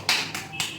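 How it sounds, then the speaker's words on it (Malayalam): A few quick hand claps ring out close by for the winner of a family drawing challenge, three or four sharp slaps in under a second. "ക്ലാപ്പ്"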